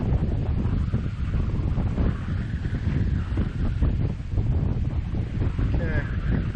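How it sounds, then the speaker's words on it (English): Strong wind buffets the microphone outdoors in a constant heavy roar, with a faint voice briefly audible underneath. "Wow, this is crazy windy, crazy."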